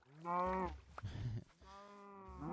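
Cows in the video game Minecraft give low, drawn-out moos, one near the start and another toward the end, with a brief noisy scuffle between them; no speech.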